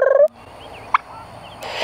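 A short, loud burst of young turkeys gobbling on a farm opens, followed by quieter outdoor ambience with a brief chirp.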